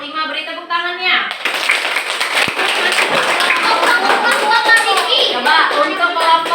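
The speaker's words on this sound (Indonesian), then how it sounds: "Beri tepuk tangannya." Schoolchildren in a classroom clap their hands together after a brief voice at the start, the clapping loud, close and quickly rhythmic, with a few thumps mixed in.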